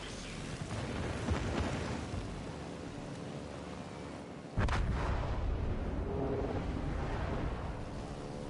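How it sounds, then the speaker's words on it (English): Heavy booming blasts from a World of Warships Legends bombing run in a naval battle game roll as dense, continuous rumbling fire, with a sharper, louder burst of explosions about halfway through, no talking. "I'll get one more good bombing run here"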